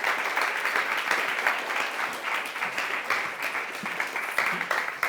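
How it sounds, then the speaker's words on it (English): Sustained audience applause at a 2025 Australian federal election forum, a dense, steady wash of many hands clapping that greets the panellists for the full length, with no talk over it. "Give them a round of applause."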